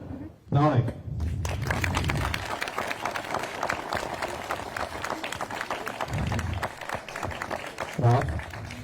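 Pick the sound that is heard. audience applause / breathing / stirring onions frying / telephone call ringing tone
audience applause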